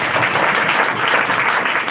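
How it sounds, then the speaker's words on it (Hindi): A classroom of students clapping together on the teacher's cue during a Class 10 geometry lesson, a steady, dense wash of many hands applauding at even loudness throughout, with no pauses. "चलिए मारो ताली"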